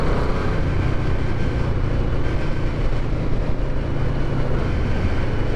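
A restored Yamaha Vmax muscle motorcycle with 12,000 miles, ridden in fifth gear. Its engine makes a steady, loud, low rumble mixed with wind roar, continuous and unbroken, with no voices.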